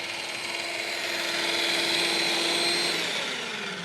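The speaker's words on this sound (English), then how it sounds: "Pop that down, start the whipping" An electric mixer whips egg yolks with golden syrup in a MasterChef Australia kitchen, giving a steady, whining motor hum that holds an even pitch for several seconds with no talking.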